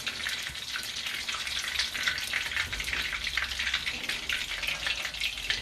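Empanada filling frying in a pan, a steady close sizzle with light stirring and bubbling throughout, no voices.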